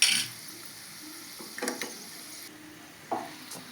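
Hot spice tempering poured into buttermilk rasam, a brief sizzling burst followed by a faint simmer and a few soft stirring clinks nearby.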